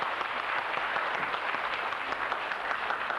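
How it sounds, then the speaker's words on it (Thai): Dense, steady applause from an audience, many hands clapping together at an even level throughout. "คุณจรุณีสุขสวัสดิ์ขอปรบมือดังๆครับ"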